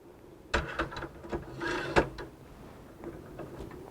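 A metal retractor part dropped and slid onto a vertical extension post, a few close clanks and scraping clicks in quick succession, then quieter fiddling.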